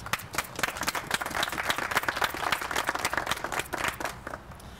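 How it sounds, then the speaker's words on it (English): An audience claps at a press conference announcing a grant, with distinct individual claps forming a moderate, fairly quiet round of applause that rises and falls unevenly over a few seconds. "this team certainly deserves another round of applause"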